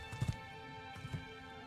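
Hooves of a horse returning in Shadow of the Colossus, two short clusters of soft clip-clop thuds over a steady tonal game music bed, moderately quiet with no talk.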